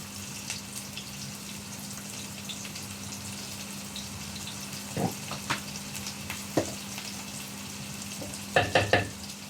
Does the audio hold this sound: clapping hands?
no